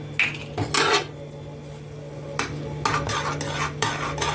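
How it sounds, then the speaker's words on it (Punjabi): Spoon stirring coffee in a cup in a home kitchen, with a few light clinking scrapes and taps of metal against ceramic spread over several seconds, close by over a steady low hum. "ਸਾਰੀ ਕਾਫੀ ਮਿਕਸ ਕਰ ਦਈਏ ਵਿੱਚ"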